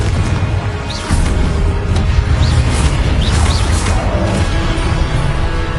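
The Confringo blast spell in Hogwarts Legacy, a loud continuous roar of explosive crashes and whooshing magic effects layered over game noise.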